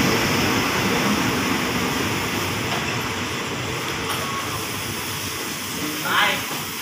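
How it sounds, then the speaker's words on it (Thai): A freight and express parcel train passes a station, producing a loud, steady rumble and hiss with a faint high squeal near the end, heard close with no voices. "เป็นขบวนรถรับส่งสินค้านะครับ"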